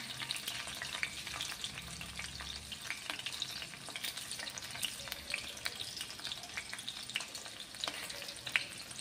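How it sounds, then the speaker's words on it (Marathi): Bay leaves frying in hot oil for a paneer curry, giving a steady close crackle and sizzle with scattered sharp pops throughout. "तर तेही आपल्याला व्यवस्थित तेलावरती परतून घ्यायचं आहे।"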